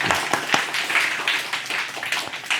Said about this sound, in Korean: 감사의 박수 한번 크게 하겠습니다